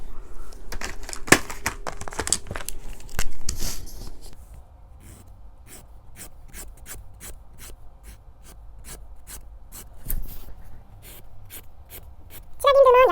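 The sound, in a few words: coloring with colored pencils on paper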